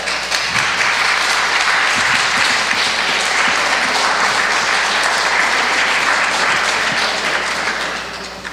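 A crowd at a school board of education meeting breaks into sustained applause, dense steady clapping that fills the room for several seconds before tapering off at the end.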